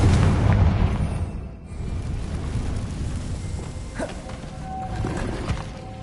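Spell explosions from Bombarda and Confringo in the Hogwarts Legacy video game: a heavy booming blast at the start, then a rumbling, crackling aftermath with a few sharper pops.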